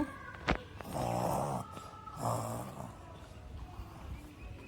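A person imitates snoring with two long, rasping snore-like breaths of about a second each, close and fairly loud, followed by quieter breathy noise.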